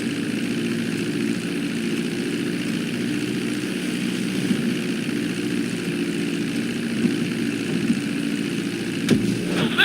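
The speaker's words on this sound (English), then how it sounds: "Now let's get the plane off the runway. Taxi over to the marked area and come to a complete stop." A propeller airplane taxis along a runway in Grand Theft Auto V, its engine droning steadily and close throughout, with a brief rattling burst near the end and no talk.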